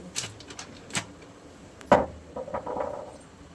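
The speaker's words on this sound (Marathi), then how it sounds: "4 विलायची घेतलेल्या आहेत आपण, बारीक करून घेऊ" Four cardamom pods crushed by hand in a kitchen for boondi laddu, a few sharp close cracks and taps, one louder crunch, followed by softer scraping grinding.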